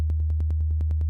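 An Arturia MiniFreak synth plays straight 16th notes on a sine wave, giving a steady deep hum with quick, evenly spaced clicky pulses ticking over it, about ten per second.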